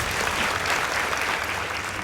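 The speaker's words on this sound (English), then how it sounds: "Please give them a round of applause." Steady applause from a school debate audience at a contest between Jamhuri High School and Kenya High School, dense even clapping throughout with no talk over it.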